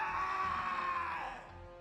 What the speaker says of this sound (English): I hear screaming.